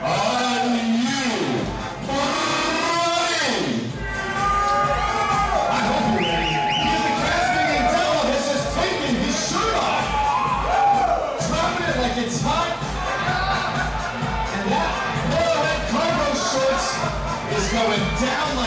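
Lively crowd at a table tennis match, cheering, whooping and shouting continuously throughout, with an announcer talking over the noise.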